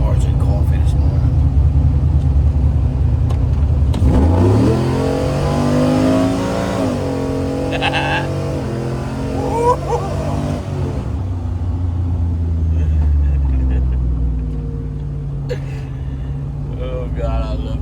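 A truck engine revs hard at a cars and coffee meet, a loud rising roar that climbs and falls over several seconds before settling into a rumbling idle, with a person talking close by.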